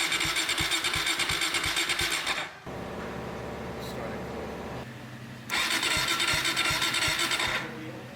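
A Suzuki DRZ motorcycle engine cranks over and over without catching, loud and close in two long bursts broken by a pause, with a lower steady hum between them.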